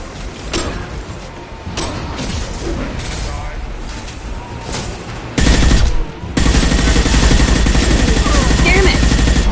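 Gunfire in the Mass Effect 2 video game: loud bursts of automatic shots during a firefight, growing denser and heavier toward the end, with voices shouting over the shooting.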